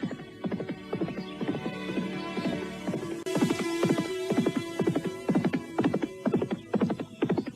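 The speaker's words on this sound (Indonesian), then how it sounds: "berangkat dengan menunggangi kuda" Horses being ridden, with a brisk, regular clip-clop of hooves repeating throughout, close and fairly loud, alongside a low steady hum.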